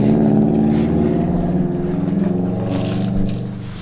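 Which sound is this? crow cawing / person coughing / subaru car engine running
subaru car engine running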